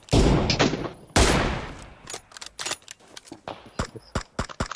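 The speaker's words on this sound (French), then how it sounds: "Ça tire au-dessus de la montagne aussi, là, quelque part" PUBG Mobile gunfire: two loud close shots open, followed by a rapid irregular series of sharper, lighter cracks, without talking.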